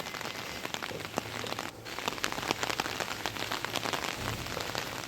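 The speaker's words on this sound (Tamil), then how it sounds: "மழை பெய்யுது, அது வீடியோவில் தெரியலைண்ணா." Steady medium rain falls on a rooftop on a morning, a dense, continuous patter with sharp individual drip hits scattered throughout and no voices.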